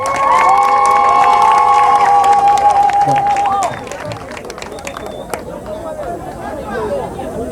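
Crowd at a civil and customary wedding cheering loudly with shouts and ululating cries, a sustained roar that drops off after a few seconds into murmuring chatter and scattered voices.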